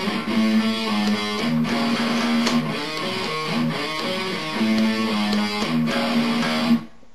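A riff on guitar, a repeating figure with low sustained notes and percussive string hits in a steady rhythm, played close and loud without talk before cutting off near the end.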